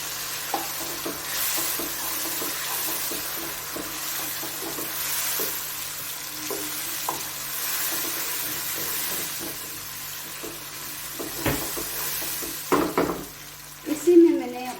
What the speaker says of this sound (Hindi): अब मैं इसमें डालूंगी जो टमाटर की प्यूरी है,